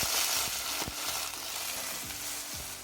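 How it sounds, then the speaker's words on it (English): Garlic browning in a pot as tomatoes go in, a bright hissing sizzle that is strongest at first and then settles, with a few sharp clinks and scrapes. "Okay, our garlic is now getting brown, so we can add the tomatoes."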